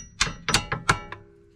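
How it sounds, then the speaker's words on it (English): A hammer taps a suspension bolt through on the rear of a 1997 Toyota Century V12 during a coilover install, five sharp metallic knocks in quick succession, close and clear, the last one lighter. "I'm going to tap that bolt through."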